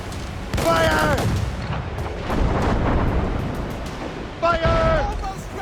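Ship cannons in Assassin's Creed Rogue fire in heavy rumbling booms during a naval battle, two loud blasts with shouted voices layered over them and a churning roar in between.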